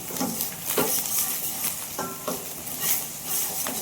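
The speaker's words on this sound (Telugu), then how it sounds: "ఆనియన్స్ కూడా వేగాయి" Onions sizzle in a hot pan for a South Indian masala vada pulusu, a loud continuous hiss broken by repeated stirring scrapes, with no voices.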